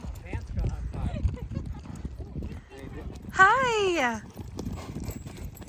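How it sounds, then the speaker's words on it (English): Horses on a trail near Flagstaff, Arizona: hoof clip-clops under people chatting close by, and one horse lets out a loud descending whinny midway. "Oh, look at the horses."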